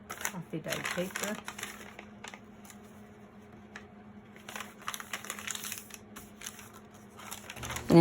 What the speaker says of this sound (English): And it has a nice crinkly sound to it.